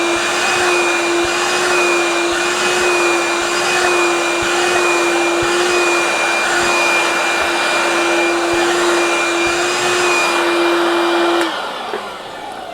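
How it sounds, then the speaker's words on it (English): A Dewalt DCV517 cordless vacuum cleaner sucks up spilled dust, running as a loud, steady whine with a strong tonal hum for about eleven seconds before switching off and winding down at the end; no voices. "I spilled some dust. Let's vacuum it up."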